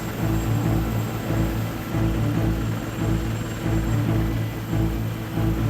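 A Navy helicopter drones steadily overhead on a coastal patrol, its rotor thrum and engine noise constant and loud throughout with no voices.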